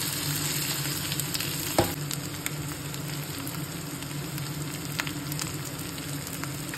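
Potatoes frying in oil alongside browned onions for a vegetable dish, giving a steady close sizzle with faint clicks throughout and one brief louder knock.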